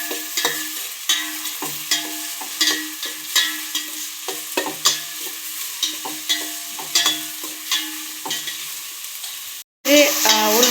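Onions and tomato fry and sizzle in a pan for egg fried rice, with steady crackling and repeated scraping stirs at an even rhythm, close and clear, cut briefly near the end before the sizzle resumes.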